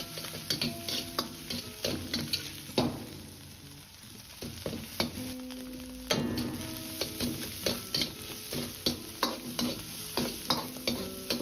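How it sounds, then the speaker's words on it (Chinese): Minced meat and drained dried chili segments stir-fried in a wok, with a continuous sizzle of hot oil and regular scraping strokes of the spatula against the pan, close and clear. "接着下入控干水分的干辣椒段，炒出多余的水分，炒出香味。"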